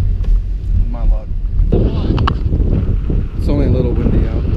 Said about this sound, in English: It's only a little windy out.